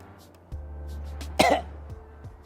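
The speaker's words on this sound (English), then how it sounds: "I coughed." A single close cough during a winter motorsports league broadcast stands out sharply over a low steady engine-like hum, with faint background noise before and after.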